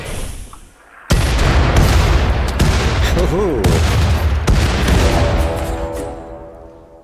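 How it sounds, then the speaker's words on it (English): Dense bursts of gunfire and booming blasts from a siege in the video game Rimworld roll on continuously, with sharp cracks layered over a heavy rumble, loud and sustained before fading slightly. "I hear gunshots, and I don't know who's firing"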